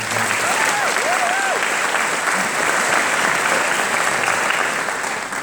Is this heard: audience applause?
yes